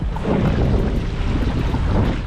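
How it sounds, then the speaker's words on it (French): Strong wind roaring across a gravel pit lake, buffeting the microphone with a loud, continuous rumble and gusty surges, no voices. "Mais le vent c'est hallucinant."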